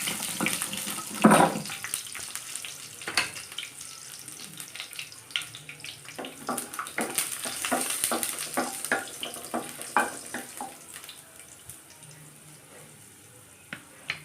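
Garlic frying lightly in hot oil for a drumstick curry, a soft crackling sizzle with scattered pops and stirring clicks, close and fairly quiet.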